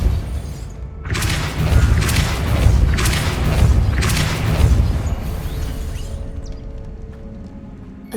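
A Depulso force-push spell impact from the video game Hogwarts Legacy lands as a series of deep, rumbling booms and crashes that swell and fade over several seconds, ending in quieter residue.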